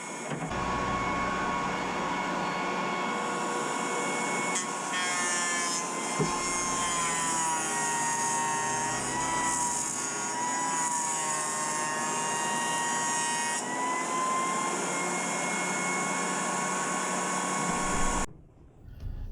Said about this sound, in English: I'm going to joint one face on each board,